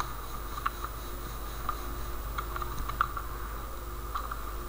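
Soft, sparse keystrokes on a computer keyboard, a few scattered taps and short clusters over a steady hum of background noise.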